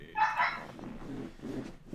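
A dog barks a few times close by in short bursts, with muffled household sounds around it and no clear talk.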